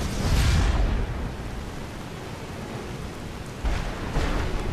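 A lightning strike with rolling thunder in Skyrim, a loud broadband rumble that swells at the start, holds steady and surges again near the end, with no voices.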